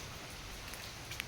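Light drizzle falls outside over a family house courtyard already filled with water, a faint, steady soft hiss with one tiny drop tick near the end.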